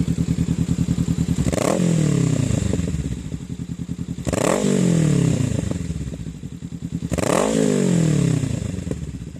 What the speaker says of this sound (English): I'll give it a couple of quick higher revs.